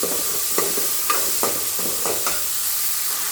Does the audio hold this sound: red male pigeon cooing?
no